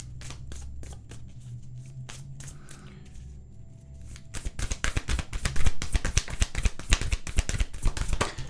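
A deck of oracle cards is handled, first with scattered separate taps and slides, then a rapid run of crisp, close riffling snaps that grows louder toward the end.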